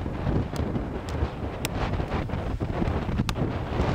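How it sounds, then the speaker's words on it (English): Gusty outdoor wind roars and buffets the microphone continuously, with a few sharp knocks and crackles cutting through the low rumble. "Wait till the wind dies down!"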